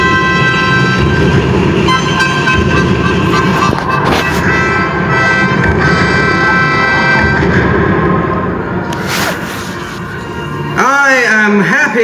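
A mini rail train rumbles along steadily with a rattling clatter and a sustained horn-like tone, loud and continuous, during a light and sound show, ending with a sweeping tonal effect.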